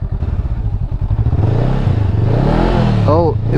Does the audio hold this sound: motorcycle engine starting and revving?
yes